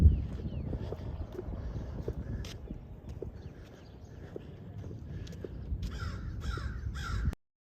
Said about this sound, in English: There's about 3 crows up there for you.